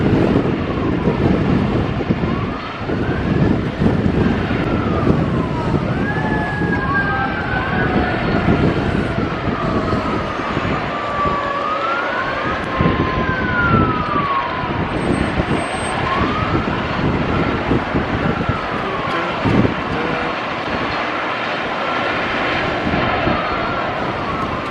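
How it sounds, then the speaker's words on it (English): Emergency vehicle sirens wail from a distance near a Las Vegas stadium construction site, rising and falling sweeps repeating over steady wind noise and a low aircraft drone. "We got more sirens coming this way."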